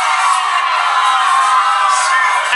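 A lively crowd at a dance battle between crumpers and b-boys cheers, whoops and shouts continuously, a dense wall of excited voices with no break.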